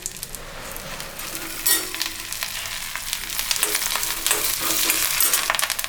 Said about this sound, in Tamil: அதுக்கப்புறம் வரமிளகாய் போட்டுக்கலாம். அதுலேயே கருவேப்பிலையே போட்டுக்கலாங்க.